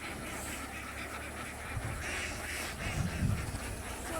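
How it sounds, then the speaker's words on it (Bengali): Ducks quack repeatedly on a haor fishery farm, reached by boat. The calls are moderately close and set against a dense outdoor background. "কত সুন্দর সুন্দর হাঁসগুলা দেখতে পাচ্ছেন।"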